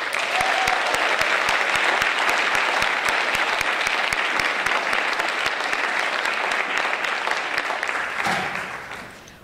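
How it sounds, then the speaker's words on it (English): Audience applause at a spring high school band concert after a percussion ensemble performance, a loud sustained crowd of clapping with some sharp individual claps, fading out at the end. "Let's give them a round of applause."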